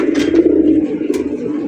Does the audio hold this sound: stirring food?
no